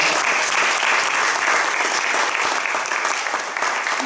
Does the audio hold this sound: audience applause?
yes